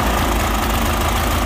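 Restored Murray engine running steadily up close, a continuous dense mechanical clatter with a rough, knocking texture throughout the short stretch.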